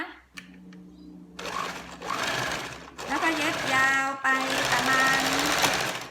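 A sewing machine stitches a dart on a garment, running in whirring bursts with short pauses and a rising motor whine. The machine is close and loud.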